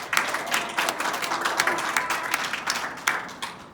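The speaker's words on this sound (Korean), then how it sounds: "그 가정 다시 한번 박수로 환영하겠습니다." A church congregation claps to welcome a family, a dense burst of many hands that stays fairly loud and steady for a few seconds before easing slightly.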